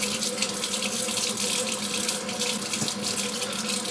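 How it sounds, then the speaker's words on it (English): Tap water pours steadily into a kitchen bowl for a few seconds of continuous splashing, a close, even rush without any talk. "Add water in here"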